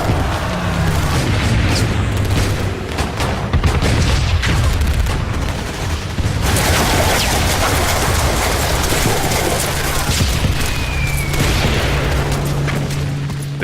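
A loud, dense wartime battle at a beach landing, with rocket launchers, mortars and machine gun fire: continuous roaring explosions, rattling bursts and rumbling booms, heavy and unbroken throughout.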